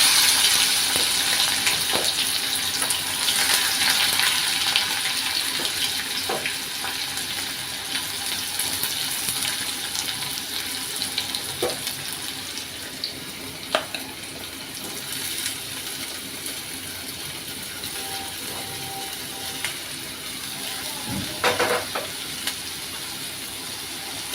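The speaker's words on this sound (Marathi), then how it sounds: "तेलामध्ये प्रथम कांदा घालू" Onion fries in hot oil with a steady, soft hiss and sizzle, broken by occasional clicks and light stirring taps, all at a moderate close distance with no talking.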